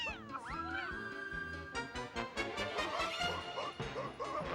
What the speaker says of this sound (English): I appreciate the dog and cat getting in a fight